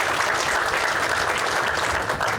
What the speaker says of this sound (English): Let's give Lee a round of applause.